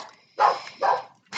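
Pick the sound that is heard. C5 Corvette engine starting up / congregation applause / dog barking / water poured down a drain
dog barking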